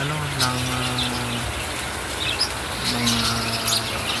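Small pet lovebirds chirp and tweet in short bursts over a steady background hiss of stormy rain, with a low hum underneath.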